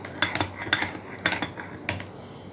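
A spoon stirs sugar into coffee, clinking against the cup in quick bright taps, four short clusters of metallic rattles heard close and clear with quiet pauses between.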